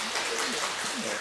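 A church congregation applauding during a Sunday morning service, a steady wash of many hands clapping together, moderately loud, with a voice speaking over it.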